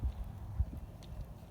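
A training horse walks through a turnaround exercise, its hooves giving a few soft, low clip-clop thuds close by with no talk over them.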